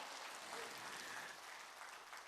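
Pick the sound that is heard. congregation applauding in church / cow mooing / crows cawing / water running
congregation applauding in church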